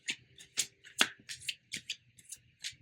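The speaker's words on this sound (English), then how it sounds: "this beautiful deck I have here, which I'm going to shuffle now" A tarot card deck being shuffled by hand, giving a run of close, crisp riffling bursts and soft card slaps in an uneven rhythm, with no talking.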